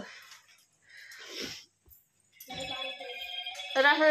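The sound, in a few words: mobile phone ringing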